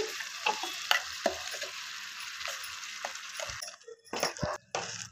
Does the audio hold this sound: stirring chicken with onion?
yes